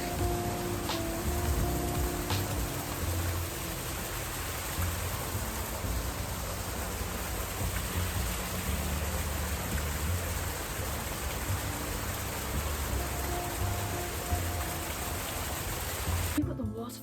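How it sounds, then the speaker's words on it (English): Flowing river or waterfall water, a dense, even rushing wash that holds steady throughout, with faint voices in the background. "I think it's like a river or something."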